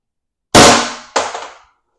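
Two sharp, loud shots from an AR Tactical airsoft gun firing 8-gram .679-bore rounds, each a crisp crack with a short decaying ring, the second following about half a second after the first.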